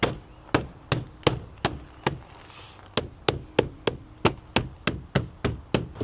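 Plastic door panel pins are pressed into a Subaru Outback door, giving a steady series of sharp, evenly spaced knocks at about three per second, loud and close, with no voices.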